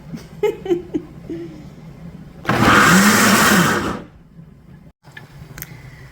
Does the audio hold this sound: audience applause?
no